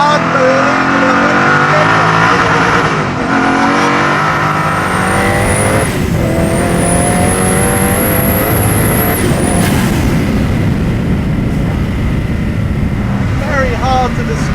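Loud, sustained roar of a Koenigsegg Agera R engine on a small track, pitch climbing through gear changes with brief dips between, close and dominant, with talking over it.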